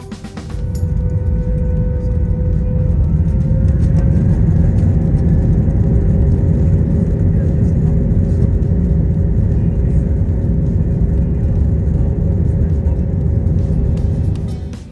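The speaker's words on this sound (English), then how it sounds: "The spool up and take off" South African Airways jet engines spool up for takeoff from Johannesburg to Cape Town, heard from inside the economy cabin as a loud, steady rumbling roar with a sustained whine that holds nearly constant throughout.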